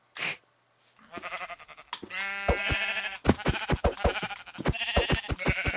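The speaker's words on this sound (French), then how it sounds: "Un mouton, on va le voir." Sheep bleating in Minecraft, with a short cry at first, then a string of loud, quavering bleats overlapping with sharp clicks and game effects, close and without speech.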